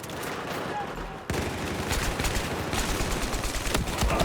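Rapid, dense gunfire from the video game Battlefield 4, with overlapping bursts of shots that grow heavier and near-continuous after the first second, loud and busy throughout.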